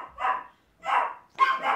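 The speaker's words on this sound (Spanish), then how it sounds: "han oído ladrar a otros perros y ya, se vuelven locos" Dogs bark three times in quick succession, loud and close, with short silent gaps between the sharp barks.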